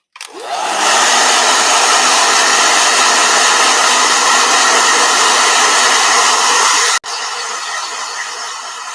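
A blow dryer starts up with a rising whine, then runs as a loud, steady roaring hiss close by before briefly cutting out and continuing at a slightly lower level.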